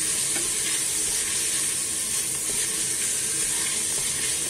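A sofrito of garlic, onion and peppers fries over high heat, giving a dense, steady hiss with faint stirring clicks, close and continuous without voices.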